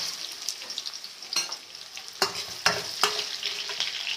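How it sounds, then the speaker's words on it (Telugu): Onions sizzle and crackle in hot oil with tempering seeds in a pan, a steady frying hiss broken by a few sharper stirring scrapes, with no voices. "ఇప్పుడు మనం ఆనియన్స్ వేసుకుందాం."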